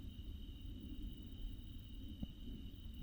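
Crickets and grasshoppers chirp in a steady, faint high-pitched trill over low outdoor rumble, with no voices.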